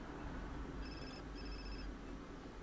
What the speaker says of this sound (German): Oh, mein Telefon. Wer wird denn anrufen?